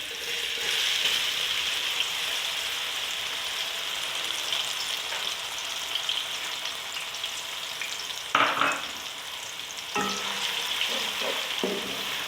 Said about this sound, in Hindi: और साथ में डाल दूँगी प्याज।